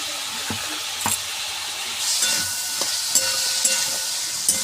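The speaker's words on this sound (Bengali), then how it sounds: "আমি তখন লাল লাল করে ভাজি নুন হলুদ দিয়ে" Food sizzles in a pan with salt and turmeric added, a steady soft hiss broken by occasional light clicks and stirring scrapes, close and continuous.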